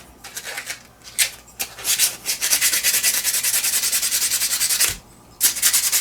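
Wood being hand-sanded with sandpaper while finishing a Kibler Fowler, close rhythmic raspy strokes with a brief pause partway through before the scratchy back-and-forth resumes.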